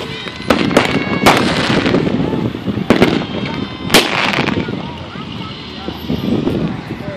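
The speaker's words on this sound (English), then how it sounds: "You got a lot of firecrackers." Fireworks and firecrackers crack and boom outdoors on the Fourth of July, several sharp loud bangs spaced a second or so apart over a crackling rumble and wind noise.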